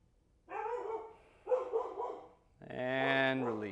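A puppy barks and whimpers close by in a quiet yoga studio, giving three separate bursts, the last one longer and more drawn out.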